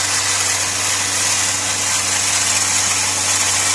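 A VW Lupo petrol engine runs steadily during hydrogen decarbonising, a constant loud hum with a broad hiss on top. It stays even and unbroken throughout with no voices.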